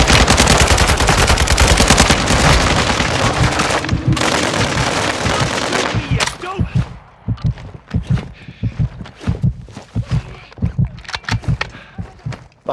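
Gunfire in Call of Duty Modern Warfare II during a hostage rescue on Ashika Island: several seconds of dense, continuous automatic fire, then a run of sharp, separate shots in irregular bursts.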